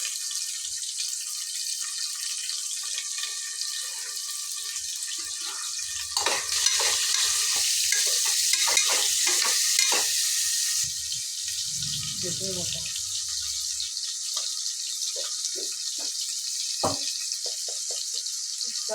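Vegetables and spice paste for a veg biryani fry in a pan with a steady hiss and sizzle, broken by stirring clatter and a burst of louder frying midway.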